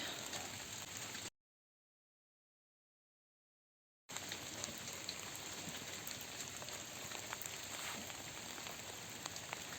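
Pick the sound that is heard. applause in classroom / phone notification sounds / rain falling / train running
rain falling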